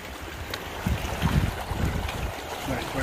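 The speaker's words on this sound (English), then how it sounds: "Right by the stream." A mountain stream in Mission Creek along the Pacific Crest Trail rushes steadily nearby, a broad wash of flowing water mixed with gusts of wind buffeting the microphone.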